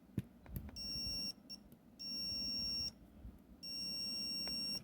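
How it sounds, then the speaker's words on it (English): A multimeter continuity tester probing a DC motor gives three sharp, high, steady beeps of about half a second each, separated by short gaps and faint probe clicks, in a quiet room. "there's continuity all over the place on this thing"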